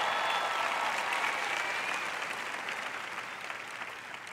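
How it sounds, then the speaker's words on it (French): A church congregation breaks into sustained applause, a dense wash of clapping that is strong at first and slowly fades over several seconds. "Allez, acclamez Dieu."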